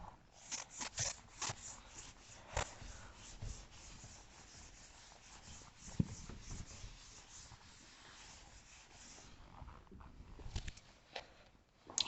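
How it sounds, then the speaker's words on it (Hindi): A mathematics proof being handwritten during a complex analysis lecture: a steady run of scratchy writing strokes, some short and sharp, others longer rubbing sweeps, close and fairly faint with a few brief pauses. "प्रूफ लिखते हैं"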